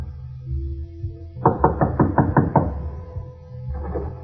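Knocking on a wooden door in a radio drama: a burst of about seven sharp, evenly spaced knocks, close and loud, followed by a quieter second round of knocks, with no talking.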